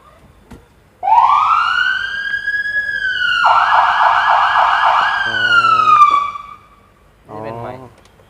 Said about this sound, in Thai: เปิดเปิดตรงไหนเสียงไซเรน